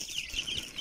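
Young chicks and hens in a backyard coop give a brief run of high, overlapping peeping and soft clucks, close and fairly quiet, with no voices.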